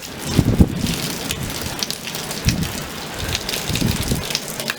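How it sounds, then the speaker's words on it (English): Heavy monsoon rain from a small storm pours steadily with a dense hiss, broken by a few low thumps and rumbles, close and loud throughout. "It's raining pretty hard."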